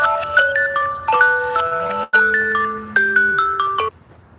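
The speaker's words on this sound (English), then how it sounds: "That was my alarm clock." A loud electronic alarm clock tone plays a bright, repeating melodic jingle, breaks off briefly, then resumes before stopping.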